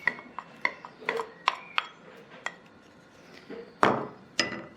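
Whisking lemon juice little by little into cream in a bowl for a lemon meringue tart, heard as a series of sharp clinks and taps of the whisk against the bowl, irregular and close, with no talking.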